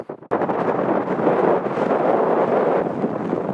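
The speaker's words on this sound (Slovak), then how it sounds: "Strašne fúka." Strong wind roars across a valley at a wind farm near Hlohovec, hitting the microphone loudly after a brief quiet start and then buffeting it in a constant, heavy rush with no speech.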